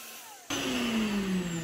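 A Shop-Vac wet vacuum kicks on abruptly and sucks cleaning solution out of a cowhide rug, a loud, steady whine with a high tonal hiss and slight wavering pitch, alone.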